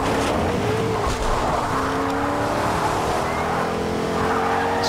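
A car in Fortnite drives hard with a constant loud engine roar while tires squeal and skid in drawn-out, rising whines, with game noise filling the background.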